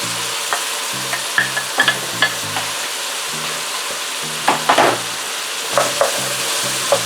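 Carrot, onions and pumpkin are stirred in a pan with a gentle background sizzle, as a utensil scrapes and taps against the metal in irregular strokes, a few louder clatters standing out; a low hum runs underneath, with no speech.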